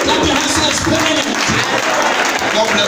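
A church congregation claps hands during a worship service, a dense, loud, continuous patter of many hands with crowd noise mixed in.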